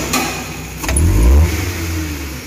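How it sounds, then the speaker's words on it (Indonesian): A car engine being checked for misfire and shaking gets a single quick throttle blip, rising into a loud, close rev around a second in and settling back toward idle. "Oke, kita gas lagi coba."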